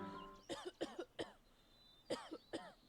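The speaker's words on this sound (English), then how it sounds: "A dry, hacking cough, so loud it takes you by surprise." Dry hacking cough in a quick series, two clusters of harsh, close bursts with a short pause between, loud and sudden against a quiet background.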